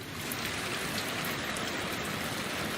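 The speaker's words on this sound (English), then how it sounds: "God, can you hear that rain?" Heavy rain falls outside in a dense, even hiss of drops pattering on surfaces, steady and close with no pauses.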